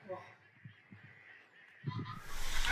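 Geese and ducks honk during a waterfowl hunt in Téteghem, France, a few short calls spaced across the stretch, at moderate distance, before a rising rush of wind or noise at the end.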